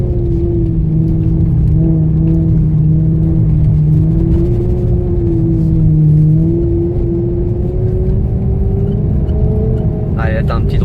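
Maserati GranTurismo S engine pulling hard around a race circuit, a loud, steady, harmonically rich drone whose pitch rises and dips slightly as the throttle is worked, with an instructor's voice faintly mixed in.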